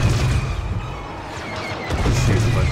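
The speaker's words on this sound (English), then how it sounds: "where the fuck is this green blaster fire coming from?" Green blaster fire in Star Wars Battlefront 2: loud bursts of shots over a dense low rumble of battle, dipping briefly in the middle before the barrage resumes, with no talking.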